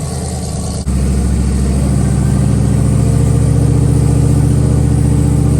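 A loud drag car engine idling with a deep, steady rumble, briefly dipping near the start before settling into a constant throb.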